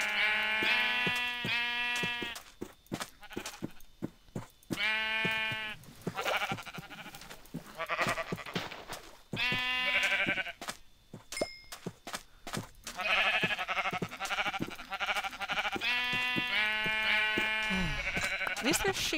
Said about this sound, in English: At least there's sheep right by spawn.